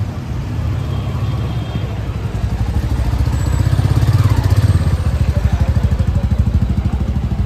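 A Royal Enfield motorcycle is unloaded, its engine running with a steady low thumping idle that swells louder midway, close and continuous, with no talk.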